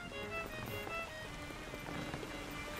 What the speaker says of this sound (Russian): Видите, дождь начался.